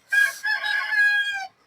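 A rooster on a terrace garden crows once, a loud, close, drawn-out call with a sharp opening and a long wavering tail, heard alone against quiet.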